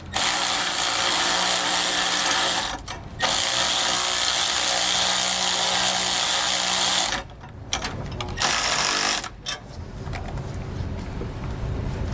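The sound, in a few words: power tool tightening steering stabilizer clamp bolts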